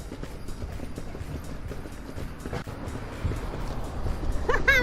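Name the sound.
horse hooves clip-clopping while running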